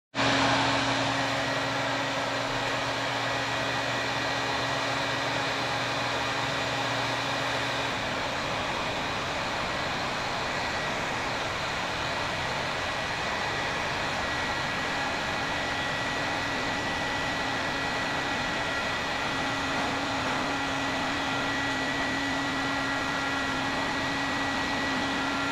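Heat being applied to a wire to bend it gives a constant, even, blowing hiss that runs unbroken throughout, with a low hum beneath it for the first few seconds.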